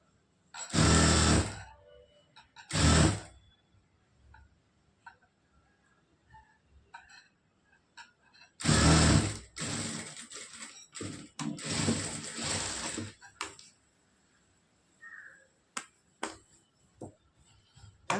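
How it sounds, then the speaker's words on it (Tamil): A sewing machine stitching the hook piece of a lined blouse runs in short loud bursts, two brief runs and then a longer several-second run, separated by quiet handling sounds and clicks. "இது வந்து கொக்கி பீஸ் தான் இப்போ நான் தைச்சிட்டு இருக்கிறேன் பாருங்கள்"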